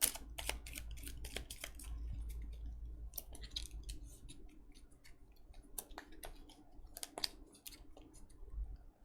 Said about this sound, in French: je vais mélanger et j'en pioche une